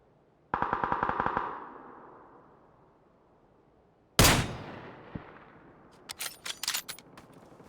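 Gunfire in PUBG: Battlegrounds, a rapid automatic burst followed after a pause by a single heavy distant shot that echoes away, then a scatter of sharp cracks trailing off.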